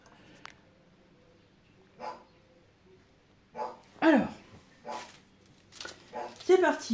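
A female dog barks indoors during a home diamond-painting crafting session, giving several short, fairly close bursts spread over a few seconds amid quiet room noise and some voice.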